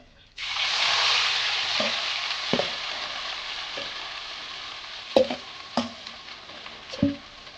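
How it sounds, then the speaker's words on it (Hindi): Red chilies fry in oil in a pan, a steady sizzle that swells when they hit the hot oil and then settles, with several sharp clinks and scrapes of a spoon stirring as the sizzle fades. "ये भी हम अच्छे से फ्राई करेंगे।"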